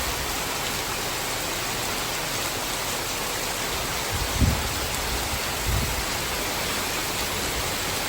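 Heavy rain pours steadily on a rainy morning in Chennai, a dense unbroken hiss filling the whole stretch, with a couple of brief low thumps near the middle and no voices.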